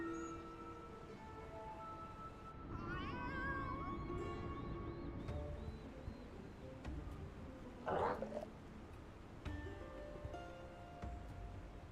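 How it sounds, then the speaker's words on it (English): Two cats meowing in the video game Final Fantasy XIV, several drawn-out meows over game music and effects, one louder cry near the end. "Why are there 2 cats?"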